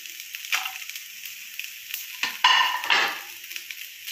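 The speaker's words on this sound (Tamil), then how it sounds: "முதல்ல மல்லியை வறுத்து எடுத்துக்கலாம். அது கூடவே காஞ்ச மிளகாய்," Coriander seeds, dried chillies and garlic dry-roast in a pan, with soft crackling and intermittent scraping stirs of a utensil against the metal; close and fairly quiet, no talking.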